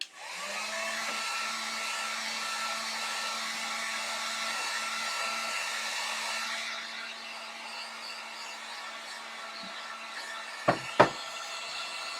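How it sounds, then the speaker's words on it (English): A steady, close whooshing roar of a heat gun blows for several seconds, then drops to a softer hum, followed by two sharp knocks near the end. "I'm going to go ahead and use my heat gun on this"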